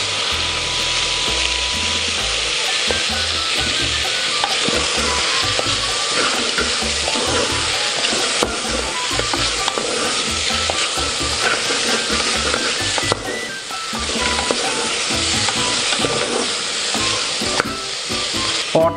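Chicken seasoned with turmeric and coarse salt is stirred in a hot pan, a continuous sizzle with repeated scraping strokes of the spoon running steadily and close up throughout.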